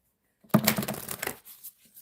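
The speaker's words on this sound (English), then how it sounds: "All right, I'm just going to shuffle. I never get sick of shuffling." A deck of cards being shuffled during a live card-reading stream: one dense, riffling burst lasting under a second, followed by a few softer flicks and taps, close and alone with no talk.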